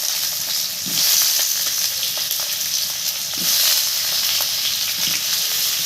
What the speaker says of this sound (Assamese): ভাজা হ'ব ভালকে